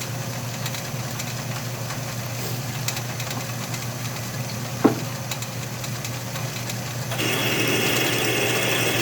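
A metal lathe drills with a quarter-inch bit at about 780 RPM, giving a steady mechanical hum with a single sharp click midway and a louder, rougher drone in the final seconds.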